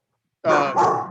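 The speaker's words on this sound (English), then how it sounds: "That's my dog." A single dog barks close by, one loud bark-like burst with a second swell right after it, following a moment of silence.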